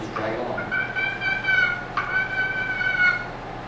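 A hand-held turkey call is dragged under pressure to make a purr, a rolling, slightly buzzy trill that wavers in pitch over a few seconds. It is close and clear, with a short cluck-like note at the start.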